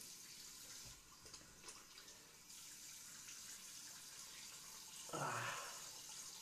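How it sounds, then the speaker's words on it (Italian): Running tap water for rinsing the face at a sink makes a faint, steady wash, with a louder splash of water near the end and no voices. "mi sciacquerò la faccia"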